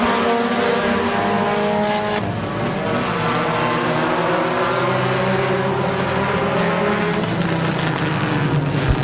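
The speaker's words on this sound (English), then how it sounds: "Eric Feaster in the 78 trying to go 3 wide off the turn 4" Race cars roar around the oval at Midvale Speedway in a loud, continuous wall of engine noise, pitches rising and falling as the pack sweeps through the turns, with a brief burst of tire squeal.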